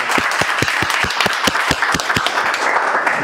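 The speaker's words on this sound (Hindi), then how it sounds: "जोरदार ताली बजा आप लोग" Students in a mobile repair training classroom clap loudly in unison, sharp rhythmic claps landing at a quick, even beat under a wash of scattered applause, close and forceful throughout.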